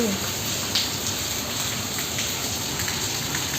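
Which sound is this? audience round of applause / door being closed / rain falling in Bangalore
rain falling in Bangalore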